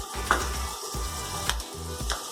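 Butter sizzling in heated oil in a pan, giving a steady, soft frying hiss with a few sharp spatters and low knocking sounds from the pan in between.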